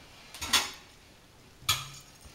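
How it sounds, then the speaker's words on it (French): A utensil mixing squeezed gelatin into cream in a bowl, heard as two separate clinks and scrapes of metal against the dish with quiet pauses between them. "Je mélange un petit coup."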